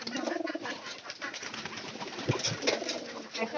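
White pigeons coo at their loft, a steady run of soft, throaty calls rising and falling close by with faint rustling and occasional wing movement.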